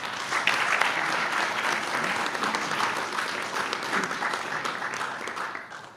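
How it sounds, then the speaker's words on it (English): Warm applause from a luncheon audience at the National Press Club, a steady, full-bodied clapping that holds evenly before tapering off at the close. "now please give them a warm round of applause"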